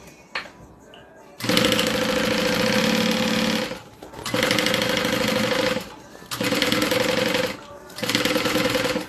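Bursts of a sewing machine stitching a bag seam, four loud runs of rapid mechanical chatter separated by short pauses.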